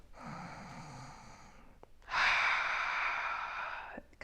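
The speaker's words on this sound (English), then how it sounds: "So we call this an Ujjayi breath. So it's an ocean style breath." Ujjayi ocean-style yoga breathing through a constricted throat: a long, soft hissing breath, a brief pause, then a louder, fuller rushing breath, close and alone without speech.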